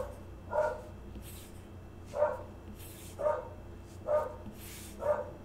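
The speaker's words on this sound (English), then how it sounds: "Can you guys hear the neighbor's dog?" A neighbor's dog barks five times in an even, repeating rhythm, each bark short and sharp, heard from a moderate distance with no talking.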